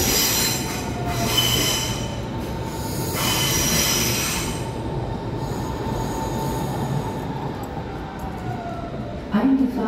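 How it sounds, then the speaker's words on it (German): A Berlin S-Bahn S7 train rolls into platform 11, with loud, sustained metallic wheel squeal over rumbling rail noise and a brief clatter near the end. "Eingefahrener Zug auf Gleis 11, S7 nach Alexanderplatz."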